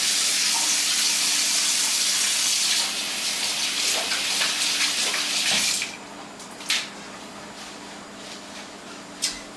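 A kitchen tap runs with a strong, steady gush of water while hands are washed under it. The flow cuts off partway through, and a couple of brief drips or clinks follow in the quieter tail.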